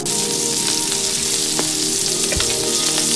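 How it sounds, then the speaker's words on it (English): Wild sockeye salmon fries skin side down in a hot pan, a loud, dense, even crackle and hiss with a few sharper pops, heard up close without any voices. "the salmon is cooking really nicely skin side down"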